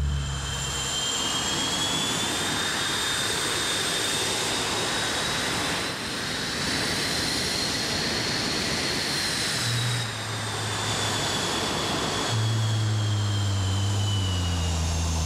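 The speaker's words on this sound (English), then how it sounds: "Gary and his support crew want to thank you for your watching the CF-18 Hornet today" A CF-18 Hornet jet fighter performs at an air show demonstration, its engine roaring loud and continuous for the whole stretch with a high whining tone that bends in pitch as the aircraft passes, plus a low rumble near the end.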